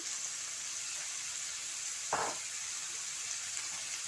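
A burst of sizzle as red chilies drop into vegetables frying in a hot pan for chicken chow mein, rising briefly over a steady background hiss of frying, no talk.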